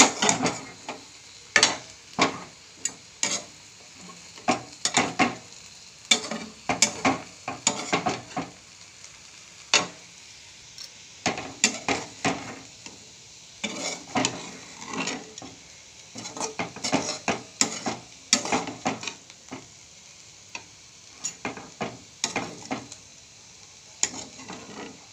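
Small pieces of raw potato fry in a pan under a soft sizzle, broken by frequent irregular clinks and scrapes of a utensil stirring against the pan, with no talking.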